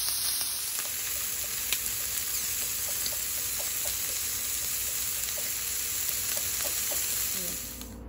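Teriyaki stir fry sizzles and fries in a hot wok, a steady close crackling hiss with faint stirring and liquid sounds, continuous throughout before easing slightly at the very end.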